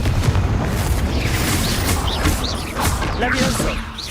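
Dense rumbling blasts and crackling magical bursts from a Confringo spell in Hogwarts Legacy, loud and continuous with overlapping combat effects and whooshing spell sounds throughout.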